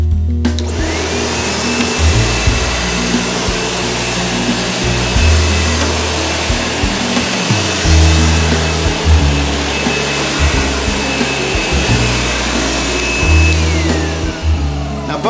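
A SEBO X4 or X5 upright vacuum cleaner runs over soft Shaw and Mohawk carpet, giving a loud, steady motor whine with a high tone that shifts slightly as the machine pushes and pulls across the pile, with no talking.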